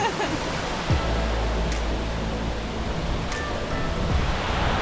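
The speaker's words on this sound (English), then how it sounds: "this waterfall is so beautiful" Steady, dense roar of a waterfall in Senaru, North Lombok, a constant broadband rush that fills the whole clip without letting up.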